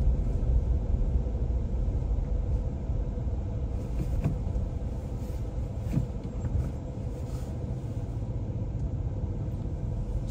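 Cars and motorbikes roll by on a busy Vientiane road, a continuous close rumble of engines and tires with swells as vehicles pass, no talking.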